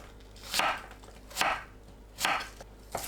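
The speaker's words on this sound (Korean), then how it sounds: "밤과 비슷한 크기로 납작하게 썰어주세요." A knife slices an apple into flat pieces on a cutting board: four crisp, close cuts spaced at an even, unhurried pace with quiet pauses between.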